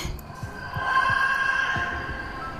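A heartbeat sound effect in a Hindi suspense audio story gives soft, low thuds at a steady, slightly quickened pace beneath a sustained eerie hum, with no speech.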